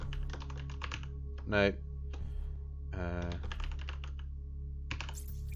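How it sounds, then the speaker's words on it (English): Rapid clicking keystrokes on a computer keyboard, fairly close and continuous with short pauses, while a person speaks briefly in between. "Let's try typing in Twitter."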